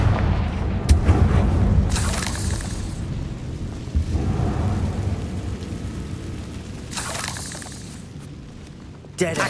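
Confringo spell blasts in Hogwarts Legacy sound as deep booming explosions and crackling bursts, several heavy hits rolling over a rumbling battle din, with a voice briefly speaking.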